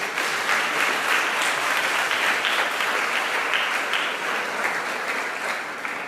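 A church congregation gives a warm round of applause to welcome presbyter Wellington: dense, sustained clapping from many hands that fills the room at an even level for about six seconds and tapers slightly at the end.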